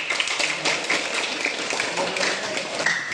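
Students in a classroom clapping their hands together, a dense burst of many overlapping claps heard close and loud throughout, with no pause or talking.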